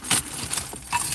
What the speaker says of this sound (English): I have an emergency key on my emergency set of keys